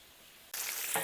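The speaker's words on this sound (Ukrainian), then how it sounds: "Тому продовжуємо смажити, огонь максимальний дубасим." Meat fries in a cauldron over a roaring wood fire, a loud hissing sizzle that bursts in suddenly after a quiet moment and then holds steady and close.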